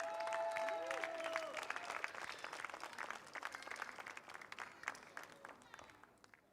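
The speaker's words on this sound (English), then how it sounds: "Big round of applause, please" Applause from a crowd at a karting race podium ceremony in Al Forsan, Abu Dhabi, gathers into a broad wash of clapping and then slowly fades. It is distant and soft, with a brief tonal sound near the start.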